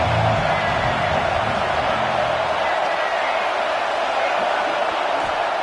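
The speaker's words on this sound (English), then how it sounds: "3rd down, and the crowd really getting into it" A football stadium crowd on third down produces a broad, steady roar of cheering and noise that stays loud and dense throughout, with a low rumble fading after the first few seconds.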